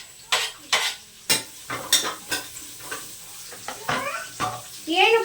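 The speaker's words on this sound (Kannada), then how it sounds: "ಫ್ರೈ ಮಾಡ್ಕೊಂಡಾದ್ಮೇಲೆ ಇಲ್ಲಿ ಈರುಳ್ಳಿ, ಮೆಣಸಿನ್ಕಾಯಿ, ಕರಿಬೇವನ್ನ 3 ಒಟ್ಟಿಗೆ ಹಾಕೊಬಿಡ್ತೀನಿ ನಾನು" Onion, green chilli and curry leaves frying in hot oil while being stirred, with a run of sharp scraping strokes over a steady sizzle, close and fairly loud, and no voices.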